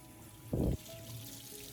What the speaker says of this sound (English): rinse the sweet potatoes again under running water to completely remove any remaining dirt